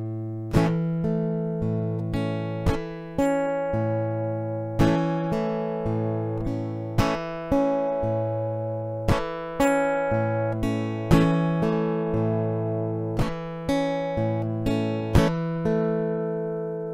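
Guitar played slowly with the frailing technique, alternating strokes: evenly spaced plucked notes and chords ring out and decay one after another, clear and close with no talking.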